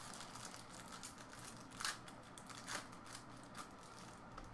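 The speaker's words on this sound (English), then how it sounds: "Pack didn't want to rip. Just wants to unwrap." A 2015-16 Upper Deck Champs hockey card pack wrapper crinkles and crackles as it is peeled open, with a few sharper rustles standing out from a faint, close background hiss and no talk.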